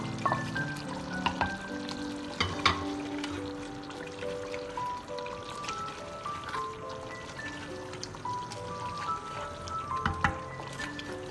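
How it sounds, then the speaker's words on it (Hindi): Chicken frying in oil with tomatoes in a home kitchen gives a steady, soft sizzle and crackle throughout, with faint tonal background music underneath. "अब ये भूनता जा रहा है, बस इसमें ऑयल छूटने वाला है, पानी इसका तकरीबन खुश्क हो चुका है।"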